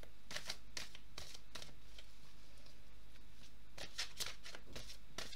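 Tarot card deck being shuffled, several quick crisp riffles and flutters of cards in bursts separated by a quiet stretch, close and soft.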